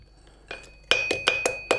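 A small hammer strikes metal while forging a hook for a large steelyard scale. Two faint taps lead into four or five sharp, ringing clinks in quick succession, close and bright, with no voices.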